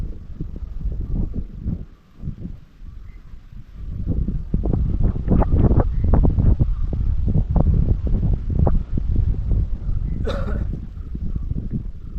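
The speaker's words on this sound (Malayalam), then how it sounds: "നല്ല കാറ്റുണ്ട്" Strong wind buffets the microphone at a fishing spot by the water, loud rough gusts rising and falling, steadier and heavier in the second half.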